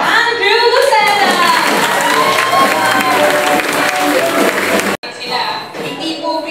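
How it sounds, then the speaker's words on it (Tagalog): A church congregation bursts into loud clapping and cheering at an anniversary Sunday service, while a voice speaks strongly over the applause and a brief cut interrupts it near the end. "Ayan, malakas na palakpak po."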